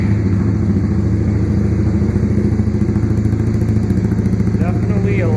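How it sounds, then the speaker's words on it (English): A Honda Grom motorcycle fitted with a full aftermarket exhaust runs with a loud, steady, close-up engine rumble that continues throughout. "I'm gonna try to start it, see what it sounds like."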